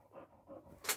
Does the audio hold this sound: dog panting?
yes